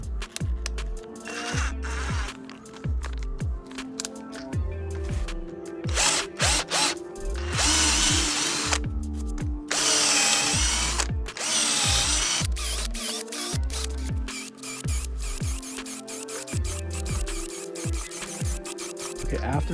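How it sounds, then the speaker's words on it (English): A Snap Fresh cordless drill, fitted with a larger bit, bores a run of holes: repeated loud whining bursts with revving starts and stops, plus some ratcheting clicks between them. The drilling sounds close up, and no one talks. "after drilling all these holes, this thing is super hot"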